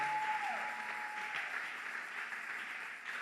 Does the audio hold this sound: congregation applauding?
yes